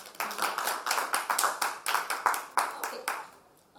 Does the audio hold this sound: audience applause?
yes